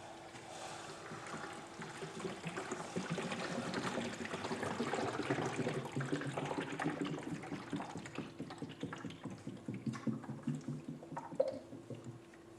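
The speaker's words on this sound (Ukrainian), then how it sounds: "вся вода з наших катетів перелилася або з квадратів, що побудовані на катетах, перелилася і помістилася рівно в той квадрат" Water pours from square containers into another square container, a continuous trickling and splashing that grows into choppy gurgles toward the end, with a steady background hum underneath.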